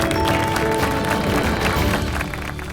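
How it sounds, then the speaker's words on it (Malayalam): Audience applauding a contestant at a Catholic Bible quiz grand finale, steady dense clapping filling the room at close range, continuing evenly throughout with a slight fade near the end. "വലിയൊരു കയ്യടി കൊടുക്കുക."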